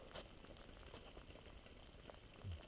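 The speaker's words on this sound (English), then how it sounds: "I definitely got a rolling boil" Water at a rolling boil on a Firebox Nano stove outdoors at night bubbles and patters faintly and steadily, with a few soft ticks, no talking.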